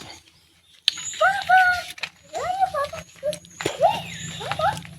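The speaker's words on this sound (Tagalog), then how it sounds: "Pinupunta na ng mga ibon." Birds feed at a sweet-fruited tree outdoors, giving several short bright chirps and whistled calls in irregular bursts, close by, with a sharp snap and a voice speaking between them.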